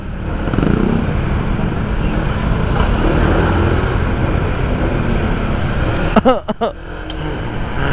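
Road traffic noise in Marikina: a dense, loud wash of passing vehicles with engine rumble and tire roar, and a few sharp chirping squeaks or horn-like tones near the end.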